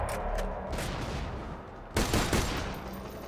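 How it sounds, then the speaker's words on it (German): Sniper rifle fire in Borderlands 2 on PS4 sounds as loud, echoing shots over a rumbling game background, with one sharp burst standing out near the middle. "was ist denn das für ein Sniper, ey? Dreier-Schuss und zieht übelst hoch."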